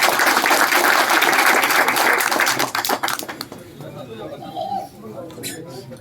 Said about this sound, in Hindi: जोरदार ताली से स्वागत।